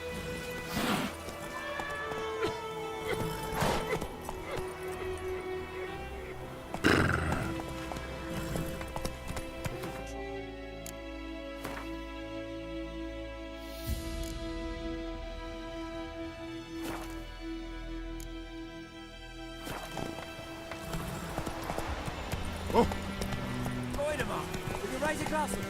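Roach, Geralt's horse in The Witcher 3: Wild Hunt, trotting with repeated clip-clop hoofbeats, mixed with game music, effects and voices, a few louder hoof thuds standing out.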